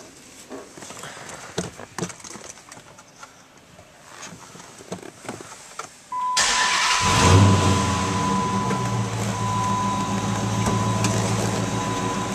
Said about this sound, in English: And now we'll start up this vehicle.